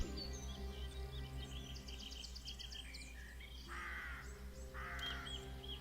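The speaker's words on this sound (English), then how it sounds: "And we have birds that are everywhere." Birds call in a Broken Sword 4 game scene: crow-like caws and chirps rise over a low steady ambient drone, with bursts of brighter, harsher calls toward the end, moderately near and without speech.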